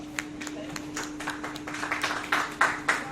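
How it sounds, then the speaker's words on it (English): Applause from an audience at a school safeguarding talk, beginning as scattered claps and building to louder, denser clapping, with a steady hum underneath and some voices mixed in. "Let's clap for our reader"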